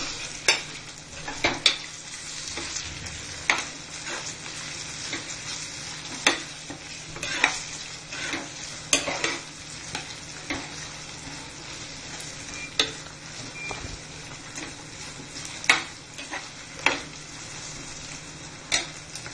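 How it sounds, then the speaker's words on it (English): Chopped tomato and green chili frying in a pan for an aloo mutton curry, a steady close sizzle broken by frequent scraping stirs of a utensil against the pan. "Now I will cook this till this tomato has become a little soft."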